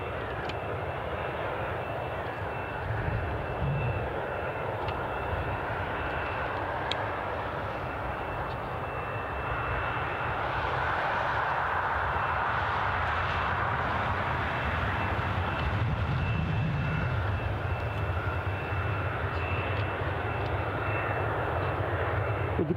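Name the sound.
Ryanair jet aircraft pushing back at Newcastle Airport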